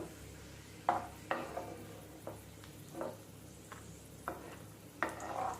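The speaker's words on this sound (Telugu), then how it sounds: "జీడిపప్పు కొంచెం వేగిపోయినాయి కదా కొన్ని కిస్మిస్లు వేసుకుందాం" Cashews and raisins frying in oil in a pan make a soft sizzle, broken by several sharp clinks and scrapes of a spoon stirring against the metal, with no one speaking.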